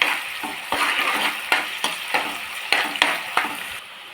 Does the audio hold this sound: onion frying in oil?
yes